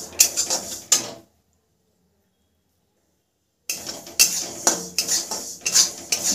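Almonds are stirred in a pan with the gas just turned off, giving close, loud clattering and scraping of the spoon against the metal. Two bursts of stirring are separated by a few seconds of complete silence.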